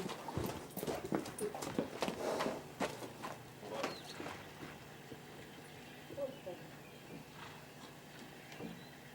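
Hooves of a five-year-old stallion clip-clop on the ground in uneven steps, louder at first and then fading, with a dog audible and people talking faintly nearby.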